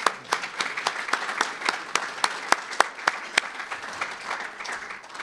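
An audience at a lecture applauds a Congressman, sparse individual claps standing out as sharp regular beats over a softer bed of clapping, moderately near.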